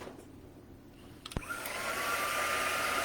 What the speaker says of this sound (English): I'm gonna hit it with the dryer just a tad.